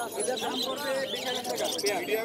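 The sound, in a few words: myna birds calling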